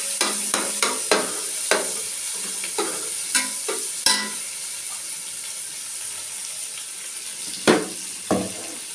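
Thinly sliced onions sautéing in a pan for prawn biryani: a steady bright sizzle, punctuated by sharp spatula scrapes and knocks that come quickly at first, then pause before two more near the end.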